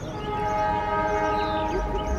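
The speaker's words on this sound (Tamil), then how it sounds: "பா செமையாக இருக்குங்க ஹார்ன் கேட்குறதுக்கு." Horn of the Ooty toy train, a sustained multi-tone blare holding steady and loud for the whole stretch, with no talking over it.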